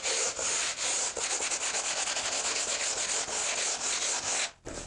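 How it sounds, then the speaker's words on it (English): A sanding block is rubbed over a rough-sawn wood surface in a fast, continuous back-and-forth rasp, close and steady, stopping abruptly near the end. "on a sanding block and just kind of give the surface a once over"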